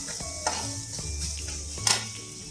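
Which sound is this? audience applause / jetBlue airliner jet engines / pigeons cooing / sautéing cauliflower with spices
sautéing cauliflower with spices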